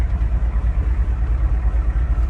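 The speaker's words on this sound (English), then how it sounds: "We're just barely idling." A Ford diesel truck engine idles at very low RPM in second gear on a hill, a steady deep throbbing rumble that continues evenly throughout with no talk.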